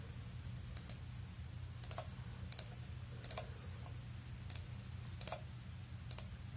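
Sharp mouse clicks, roughly one every second or so, ring out clearly over a steady low hum while an LED array display is programmed on an Arduino.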